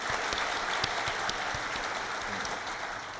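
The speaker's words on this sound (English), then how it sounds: "Let's give them a big round of applause." Steady applause from the audience at the Hult Prize 2025 Global Finals in London, a continuous even patter of many hands clapping, moderately loud and sustained for the whole stretch.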